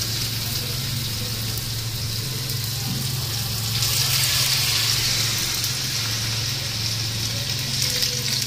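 Leaf fritters frying in oil in a home kitchen, with a continuous hiss and crackle that swells louder partway through, with a low steady hum underneath.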